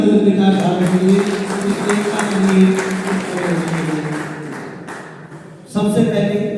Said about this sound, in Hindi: एक बार ताली बजा दो इस विचारधारा के लिए।